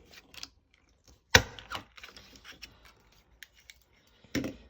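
Scissors snipping through paper while cutting out Halloween junk-journal ephemera: a sharp close snip followed by scattered small cuts and rustles, then another crisp snip near the end.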